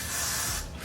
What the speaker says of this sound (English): I'm going to secure the parts that need to be secured with some Got To Be Free spray